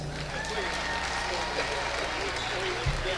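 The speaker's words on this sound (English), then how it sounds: "let's give one more round of applause for our senior Lady Bulldogs" Crowd applause in a school gymnasium at a boys' basketball game honoring senior girls and cheerleaders, a steady roar of clapping and cheering with voices underneath, fairly distant and even throughout.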